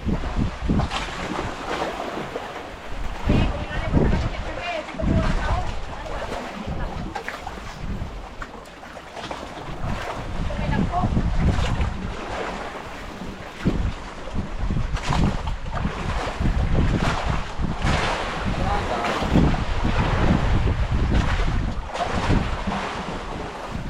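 Strong wind roars over open sea around a boat, with gusting microphone buffeting and waves slapping and washing steadily throughout, loud and continuous with no voices.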